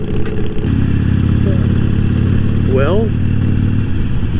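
A Harley-Davidson Iron 883 motorcycle engine runs with a steady, loud low rumble and mild revving while riding through Daytona Beach Bike Week, and a voice talks briefly over it.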